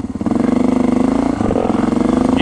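A motorcycle engine revs hard and steadily close by, accelerating for a wheelie on a road, its throttle dipping briefly mid-pull before climbing again.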